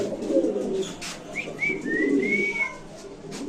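Pigeons offered by a seller in Bangladesh give low, rolling coos nearby, joined midway by a few thin, rising whistle-like chirps over a soft ambient hum.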